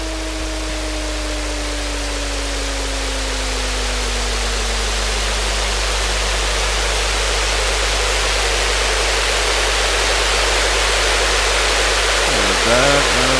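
A steady noise loop layered under a synth pad builds a dense, wide hiss that stays constant and loud throughout, with a low drone and a slowly falling tone gliding down beneath it.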